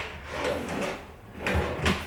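A top drawer of a kitchen cabinet slides open with soft wooden rubbing and sliding, a couple of close, muted movements with a light knock near the end, and no talking.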